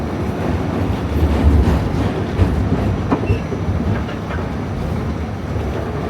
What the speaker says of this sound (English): We're gonna take the F train.